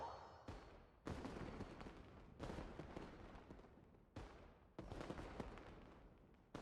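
Fireworks burst one after another, about five sharp booms each trailing off into a long fading rumble, at a steady rhythm, somewhat distant and moderately loud.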